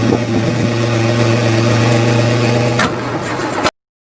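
A car engine runs steadily at a strong, even drone, with a brief change in pitch near the end before it cuts off abruptly into silence.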